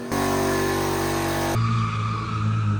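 A BMW E36 roars at high revs during a drifting burnout, its loud sustained engine note holding steady before dropping to a lower pitch partway through, with tyre noise blended into the close, continuous din.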